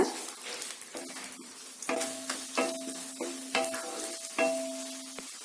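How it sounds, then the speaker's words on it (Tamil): Eggs frying and being stirred in a pan, with repeated scraping strokes of a utensil over a steady sizzle, close and moderately loud, no talking. "முட்டை சேர்த்திட்டு இது மாதிரி நல்லா கலந்து விட்டுட்டே இருங்க"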